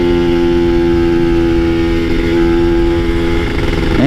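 Kawasaki Ninja two-stroke motorcycle engine climbing a hill, a loud, close, steady high-revving drone held throughout with slight pitch shifts as the throttle is worked against a half-pulled clutch.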